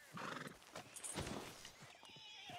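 A horse in the video game Red Dead Redemption 2 gives a loud whinny over clip-clopping hooves, then snorts, all close and clear with no voices.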